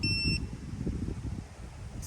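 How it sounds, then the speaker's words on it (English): A Wheelator power walker wheelchair's alarm gives a steady electronic beep for about a third of a second over low rumbling background noise, then a second beep starts right at the end. "It was beep, beep, beep, and the device locked up"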